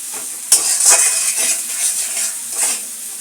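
Ground spice paste for a spicy chicken curry is fried in a pan and stirred, making a close crackling sizzle with scraping strokes of a spoon and a sharp clink at the start; no talk.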